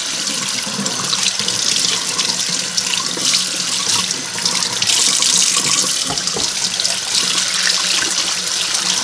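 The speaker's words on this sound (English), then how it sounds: "just under gentle running water, you can gently scrub off the surface salt" Gentle tap water runs steadily into a kitchen sink as cured salmon is rinsed and the surface salt scrubbed off, a continuous close splashing with small shifts as hands move under the stream, no voices.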